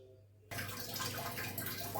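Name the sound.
water being poured into a pot for red poha porridge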